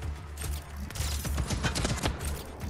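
Rapid bursts of automatic gunfire in the action video game Just Cause 4, loud and dense throughout, with sharp repeated shots clustering in a rattling volley.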